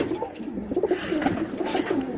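A Birmingham Roller pigeon coos close by, soft repeated rolling calls in a loose rhythm over a steady background hiss, with no voices.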